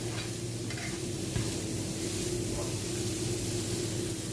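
Vegetables sizzle and fry in a pan while being stirred, a steady close hiss with soft scraping throughout, no talk.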